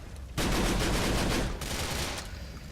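Sudden burst of rapid gang gunfire in Grand Theft Auto, loud, dense shots lasting over a second before trailing into lighter pops.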